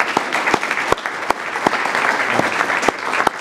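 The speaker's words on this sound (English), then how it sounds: "So let's give him another round of applause." Close, loud audience applause at a political gathering, a dense clatter of clapping with several sharp individual claps standing out above the rest.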